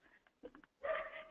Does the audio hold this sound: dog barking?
yes